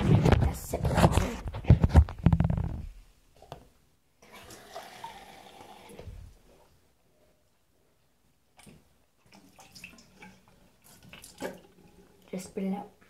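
Water at a bathroom sink while someone rinses their mouth and spits, with a burst of running water and splashing at the start, then quieter drips, trickles and small splashes scattered through the rest.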